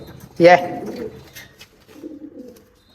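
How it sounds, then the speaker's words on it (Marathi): Pigeons, a male and female pair, coo close by while feeding on chickpeas, with one loud throaty coo followed by softer, lower murmuring calls and short pauses. "दोन्ही कबुतरांनी बघा पकडून ठेवले, लगेच चणे खायला आले ते."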